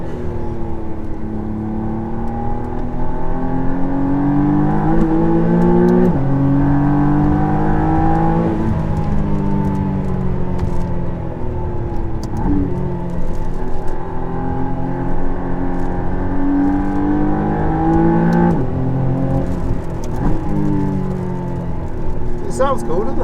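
A McLaren Artura accelerates up a hill climb course at the 2022 Festival of Speed, its engine note rising through the revs and dropping at each of several gear changes, with voices talking over it.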